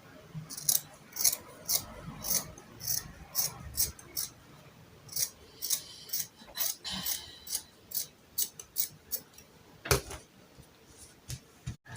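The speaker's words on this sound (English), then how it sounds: "First of all, cut out the back neckline. Then raise it up and cut only the front neckline." Scissors cut fabric along a gown's neckline in a quick run of crisp, close snips, steady and rhythmic with brief pauses.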